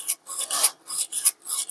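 Hand sanding a vintage brass hammer with 220 grit sandpaper, quick rhythmic scratchy rasping strokes, about eight close back-and-forth passes in under two seconds.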